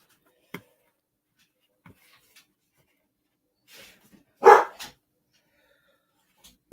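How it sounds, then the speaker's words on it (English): A dog gives one loud, close bark, preceded by a few faint, scattered knocks and rustles in an otherwise quiet room. "Let me let the dog out."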